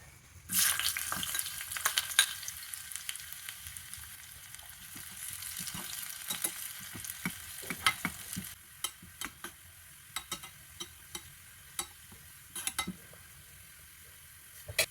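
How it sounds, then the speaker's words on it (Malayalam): Sliced small shallots fry in coconut oil in a clay pot, with a bright, dense sizzle that starts suddenly, then settles into crackling, sparse pops and occasional light stirring taps. "ഒരു ചിൻചട്ടിയിൽ വെളിച്ചെണ്ണ ഒഴിച്ചിട്ടുണ്ട് ഇനി ഇതിലേക്ക് ചെറിയ ഉള്ളി ഒരു അഞ്ചോ ആറോ ചെറിയ ഉള്ളി വട്ടത്തിലരിഞ്ഞത് ചേർത്ത് കൊടുക്കാം"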